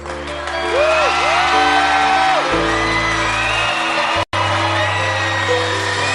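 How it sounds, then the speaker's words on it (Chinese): A live audience at a concert of classic Taiwanese and Hokkien love songs claps and cheers loudly, with whoops over continuous applause and music and a brief dropout near the end. "现场的朋友们，再来一次疯狂热情掌声鼓励！"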